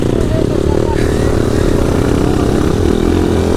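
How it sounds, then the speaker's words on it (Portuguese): A flooded Honda CRF 250 dirt bike engine runs loud and close in a steady, rough drone with a slight clattering edge, holding unbroken for the whole stretch. "A moto tava engolhada, mano."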